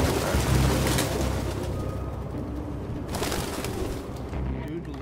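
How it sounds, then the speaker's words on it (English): Pigeons cooing indoors in a suspect's apartment in the video game Detroit: Become Human, a steady low murmur of several birds with rain-like ambient noise beneath, moderately loud throughout. "Dude loves his pigeons."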